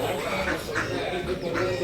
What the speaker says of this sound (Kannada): ಇದೆಲ್ಲ ಬಾತುಕೋಳಿಗಳು ಇಲ್ಲಿ